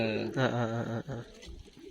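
A Karna breed pigeon coos nearby, a low throaty warble repeated in a short burst, followed by faint rustling.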